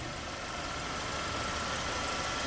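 A 2010 Mercedes-Benz C200 CGI engine idles steadily and quietly, a smooth, even mid-pitched hum with light vibration heard up close, no voices over it.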